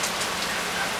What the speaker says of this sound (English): but it's looking like a nice little rain.